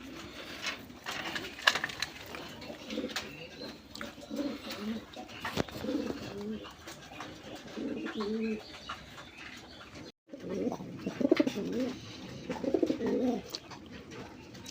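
A pair of big Sobji racer pigeons coo repeatedly in low, throaty rolling bursts, close and continuous, among a loft's background bird noise and brief chirps, with a short pause midway.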